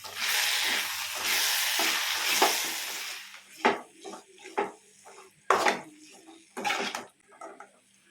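A capsicum rice mixture sizzles in a pan, a dense frying hiss for a few seconds, then several separate spatula scrapes and stirring strokes with short pauses between them.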